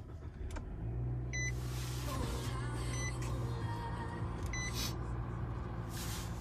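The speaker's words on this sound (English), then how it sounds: "Go ahead and turn it on, push button start." A 2019 Nissan Rogue Sport started by push button: a steady low engine idle fills the cabin, with several short electronic chimes and beeps over it.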